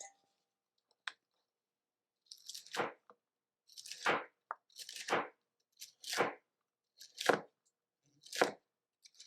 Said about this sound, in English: So I'm just thinly slicing those.